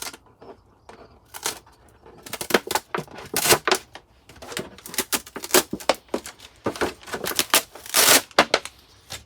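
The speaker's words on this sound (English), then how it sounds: "I'm going to remove the label" Paper label being peeled and torn off a plastic tub, sharp irregular ripping and crackling bursts, close and repeated in uneven spurts with short pauses between.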